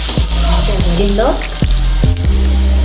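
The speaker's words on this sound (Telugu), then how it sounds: "ఉల్లిపాయ వేగింది." Chopped onion sizzles in hot oil in a pan with whole spices for a brinjal curry, a steady loud frying hiss with a few scraping stirs of a spoon.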